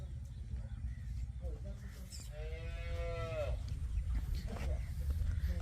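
A cow on a dairy farm gives one clear, drawn-out moo midway, heard at moderate distance over steady low farmyard rumble and background noise.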